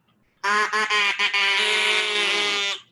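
A duck call noisemaker blown as a celebratory salute at a charity duck race gives one loud, sustained, nasal honk lasting over two seconds, with a few quick breaks near the start.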